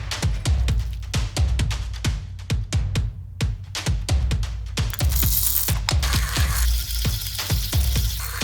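An espresso coffee machine works through a run of sharp, rhythmic mechanical clicks and knocks, like grinding and tamping. A hiss of steam or spray joins in near the end.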